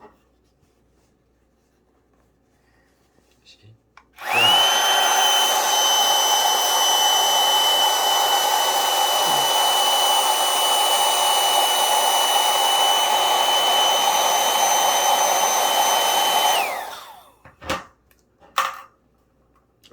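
A small Daiso mini electric air pump runs steadily for about twelve seconds while deflating a pillow, a loud continuous whirring rush of air with a faint steady whine, starting and stopping abruptly, followed by a few handling clicks.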